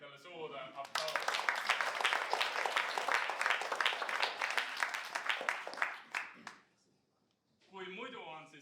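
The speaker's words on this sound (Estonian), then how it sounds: "Tehke endale suur aplaus" An audience breaks into loud sustained applause of many clapping hands at a live show, the clapping fading out after several seconds and leaving a short silence before talk resumes.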